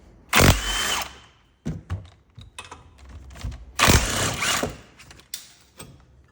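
A power tool, likely an impact wrench, spins off the caliper bracket bolts on a Toyota Corolla in short loud bursts, with two long runs and several brief whirs, close up.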